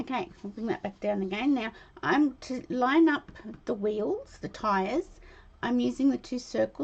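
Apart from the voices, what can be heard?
No everyday noises stand out.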